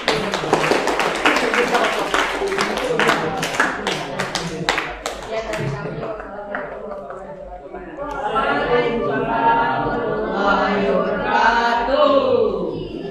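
Students in a classroom give a student group a round of applause, a dense burst of many hands clapping for several seconds that fades into mixed chatter and a teacher's voice nearby.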